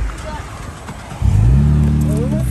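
A Chevrolet Camaro's engine catches after about a second of background noise and voices, then idles loudly and rises in a steady rev, with a whine climbing over the low engine tones.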